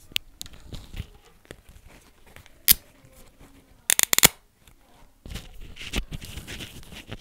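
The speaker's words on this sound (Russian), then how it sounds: "Вот такой вот звук издает ремень при закрытии." A few sharp metallic clicks and snaps of a belt buckle being fastened, close up, with quiet rustling between them.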